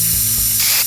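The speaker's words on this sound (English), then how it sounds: "we'll be turning our spray cans on" A spray can releases a steady, loud, close hiss that runs continuously for under a second, alone with no voices.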